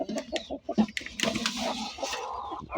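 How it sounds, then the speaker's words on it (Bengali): Farm chickens cluck busily while feeding from a food container, with several close, overlapping clucks and calls in an irregular rhythm and no voices. "আমাদের মুরগিগুলো খাবার খাচ্ছে"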